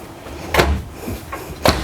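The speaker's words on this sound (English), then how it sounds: "These drawers are soft close, by the way, so it's nice." Soft-close drawers in a 2020 Newmar Kountry Star Class A diesel motorhome shut twice, each a muted thud close by with a softer slide between them, no talk.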